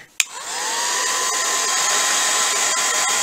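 A hair dryer blows steadily on freshly applied patina paint, starting abruptly with a click and then holding a loud, even, continuous roar throughout.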